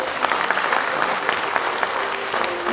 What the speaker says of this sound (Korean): 학술상을 수상하신 5분께 다시 한번 축하의 박수를 부탁드립니다